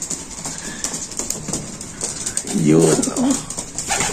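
Racing pigeons coo in a loft, with a burst of soft, throaty cooing partway through over steady background noise; someone speaks briefly.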